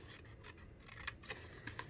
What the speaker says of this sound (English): I'm going to cut this right on the line